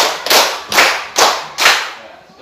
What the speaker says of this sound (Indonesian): Tepuk 5. Tepuk 5 2 kali.